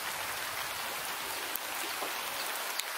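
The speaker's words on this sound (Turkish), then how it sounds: "Yağmur başladı." Steady rain falls in a village in Panama, a continuous broadband hiss of drops with a few louder taps standing out, no voices.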